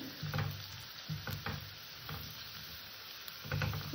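Beans frying in a pan for pasta, a steady low sizzle broken by repeated soft stirring scrapes and taps of a spatula, fairly quiet and close.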